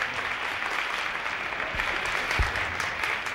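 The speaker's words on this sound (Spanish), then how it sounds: "los nervios se le van a pasar en el momento en que escuche un fuerte aplauso de bienvenida" A television studio audience gives steady welcoming applause, a continuous wash of clapping at moderate level with a couple of low thumps near the middle.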